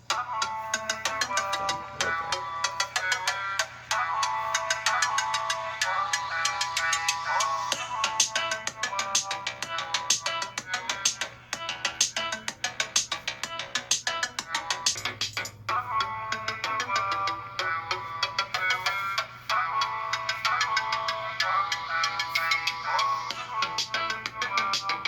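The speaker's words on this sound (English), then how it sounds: "So volume is up all the way, doing the same song, about the 20-second mark" A song plays at full volume through the built-in speakers of an iPad 9: dense, continuous music with steady bass and bright melodic layers, loud and unbroken for the whole stretch.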